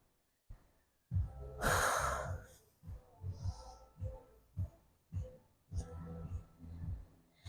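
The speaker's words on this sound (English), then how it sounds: "keep breathing in through the nose, out through the mouth" Repeated breaths during a Pilates and stretch session, drawn in through the nose and let out through the mouth, with several close, audible exhales in a steady rhythm.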